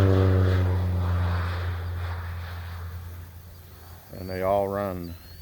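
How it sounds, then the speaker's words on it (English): Propeller airplane passing overhead above a backyard chicken flock, a steady low drone that fades gradually, with a person talking over it. "That was an airplane."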